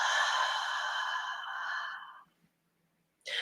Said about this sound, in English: Take a deep, fill the lungs up. Hold the breath in for a moment. Open mouth, exhale.